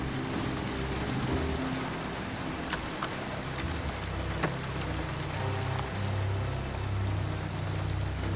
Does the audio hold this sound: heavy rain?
yes